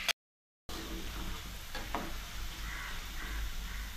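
Jackfruit chips fry in hot oil, a close, steady sizzle with a few stirring scrapes after a brief silent gap at the start, and no voices.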